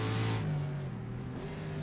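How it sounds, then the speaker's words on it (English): A race car engine drones steadily in rFactor on the Targa Florio course in a 1967 race, a continuous mid-loud tone with a slight pitch shift, heard alone. "I do hear another car though."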